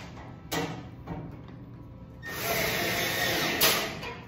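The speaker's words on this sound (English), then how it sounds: "All right, we'll tighten up those screws." Screws being driven into the front panel of a Maytag gas dryer with a power driver, two short whirring bursts followed by a longer sustained whine that rises near the end, close up and without speech.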